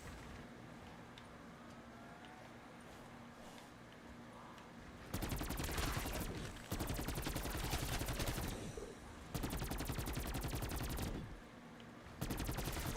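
Rapid automatic weapon fire in Black Ops 3 Zombies, long sustained bursts of dense crackling shots after a quieter stretch of game ambience, loud and close with brief pauses between volleys.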